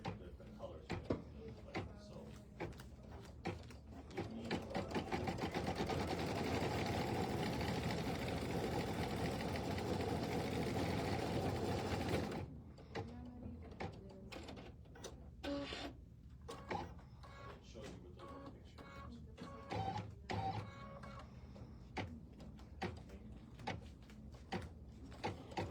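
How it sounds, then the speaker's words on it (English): An embroidery machine stitches stars onto blue fabric with off-white thread, running as a steady, dense mechanical whirr for about eight seconds at moderate volume, surrounded by quieter clicks and handling noises, with a person talking now and then. "it's going to stitch out some stars on this blue fabric"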